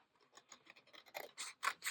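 Scissors snip and slice through paper to cut out pancake shapes, a run of quick crisp cuts that grows louder and scratchier toward the end, close by with no talking.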